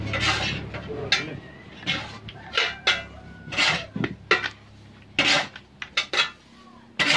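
Organic fertilizer solution mixed with EM4 biostarter and sugar being stirred in a container, giving a run of scraping, clinking strokes at an uneven rhythm, close and fairly loud.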